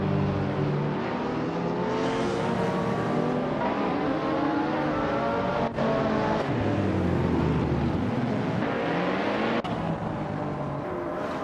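Race cars, including a Lotus 211, roar continuously in a race, with loud, sustained engine drones rising and falling in pitch as they accelerate and shift, close and dense throughout.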